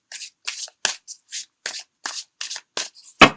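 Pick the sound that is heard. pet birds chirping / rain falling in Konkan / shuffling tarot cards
shuffling tarot cards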